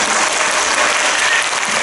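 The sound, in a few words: audience applauding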